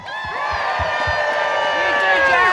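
A crowd at a Trump rally in Bucks County claps and cheers in a loud, sustained roar that swells steadily, with whistles and whoops riding on top.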